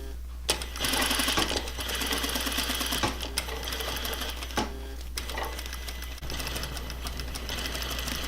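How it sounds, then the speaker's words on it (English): A sewing machine stitches a half inch seam on a lace gown with boning, running in a close, continuous rapid mechanical whir with short stops and restarts over a low steady hum. "Carefully stitching that 1/2 inch seam allowance"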